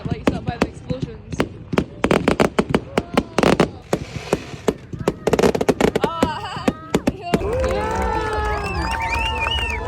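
Bonfire Night fireworks burst in a rapid irregular string of loud cracks and bangs, close by, before a crowd's chatter and cheering fill the last seconds.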